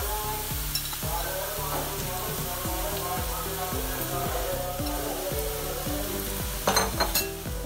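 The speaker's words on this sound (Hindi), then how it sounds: "ये अब ऐड कर लेते हैं आलूओं को।" Cut potato pieces go into a hot pan with fenugreek and spinach and fry with a strong, steady sizzle, close and loud, with brief stirring clatter near the end and no talk.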